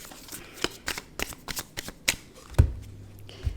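Tarot cards are riffled and shuffled by hand at close range, giving a series of quick soft flaps and taps, then a card is set down with a couple of dull knocks on a table.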